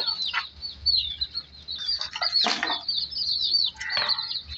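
Chickens and roosters clucking and calling near by while being fed maize at a home yard, with repeated short clucks and a few wing flaps and chirps over a low steady background.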